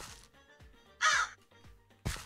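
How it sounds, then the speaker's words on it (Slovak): Crow cawing inside a modded video game world: two loud, harsh caws about a second apart, each a short noisy burst, over faint in-game ambience with other brief chirps. "tu je taká vrana zaseknutá v budoku, to je pekné"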